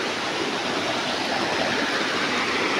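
A shallow river with a strong current rushes over stones, giving a steady, loud broadband wash of flowing water with no pauses and no voices.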